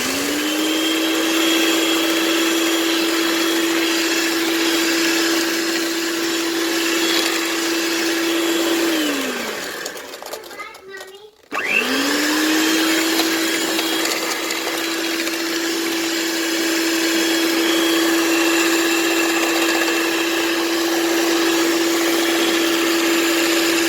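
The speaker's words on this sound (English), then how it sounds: "I'm going to beat these on low." An electric mixer beats eggs, sugar and butter on low for a sponge cake, a loud steady whine that winds down, pauses for about a second, then spins back up and runs on evenly.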